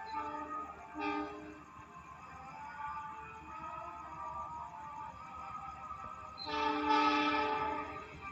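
The Mutiara Selatan passenger train runs through Kawunganten station, its horn sounding in a short blast and then a longer, louder one over the low rumble of the passing carriages.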